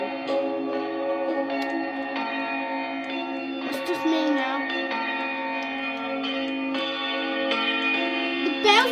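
The tenor bell at All Saints, Maidstone, rings on Boxing Day, its sustained, reverberant tones overlapping and swelling over nine seconds, with faint talk in the background.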